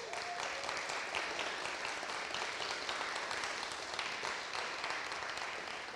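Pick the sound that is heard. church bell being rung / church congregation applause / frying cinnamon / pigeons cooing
church congregation applause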